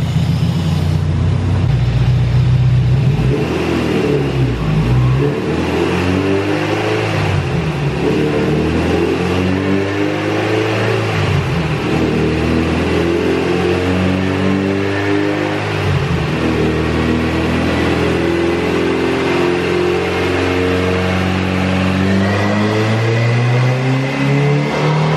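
A clean EG-chassis hatchback on a dyno, its engine revving steadily through a full pull, loud and continuous with rising and falling harmonics and no talk over it.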